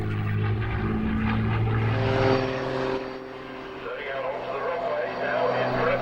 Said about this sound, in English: Followed by Carolyn Grace in this immaculate 2-seat Spitfire T9.